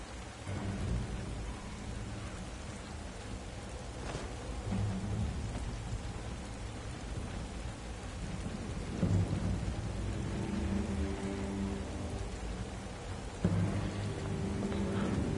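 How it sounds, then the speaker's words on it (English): Heavy rain pours steadily in the remastered Tomb Raider video game, a dense continuous hiss with low rumbling swells that suggest thunder, with no talk over it. "The rain is also very intense."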